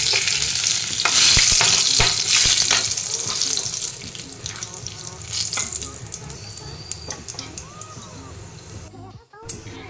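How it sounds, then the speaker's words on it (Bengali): Dried red chillies, cardamom, cinnamon, cloves and bay leaves tempering in hot oil for dudh potol, loud crackling sizzle that fades gradually, with stirring clatter and a voice heard over it. "দুটো শুকনো লঙ্কা ফোড়ন দিলাম, আর গরম মশলা, এলাচ, দারচিনি আর লবঙ্গ, আর দুটো তেজপাতা"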